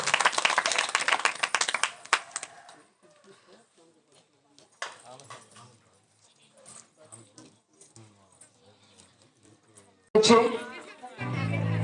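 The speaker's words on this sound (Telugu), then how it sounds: "దయచేసి అందరం చప్పట్లు కొడదాం" A church congregation at a New Year service breaks into a burst of clapping that fades out after about two seconds, followed by quiet murmuring and scattered voices, then another short burst of clapping and speech near the end.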